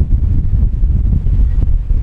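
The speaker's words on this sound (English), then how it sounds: "Got some very strong winds there, gusting over 30 knots." Strong wind gusting over 30 knots on a yacht batters the microphone with a loud, low, continuous rumble that surges in uneven gusts.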